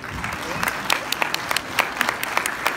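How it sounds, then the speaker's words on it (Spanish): Audience applause at a live bolero-style music performance, a dense burst of clapping from a crowd with crisp claps over a warm room background, fairly loud and continuous. "Un aplauso, por favor."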